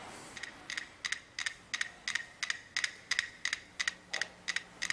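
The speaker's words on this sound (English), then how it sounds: "these metronomes are going to click, but they're going to click out of phase" Five mechanical metronomes ticking out of phase, giving a steady run of crisp, close wooden clicks, about two or three per second, that sound almost evenly spaced.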